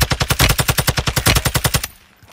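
Rapid automatic gunfire in Warzone 2, played in third person, about twenty evenly spaced loud shots in a steady burst that stops abruptly and leaves a faint tail.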